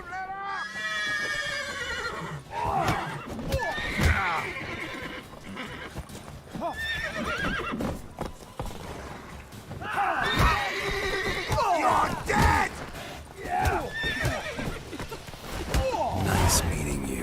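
Horses in the video game The Witcher 3 neigh and whinny repeatedly over clopping hooves, with voices talking in between.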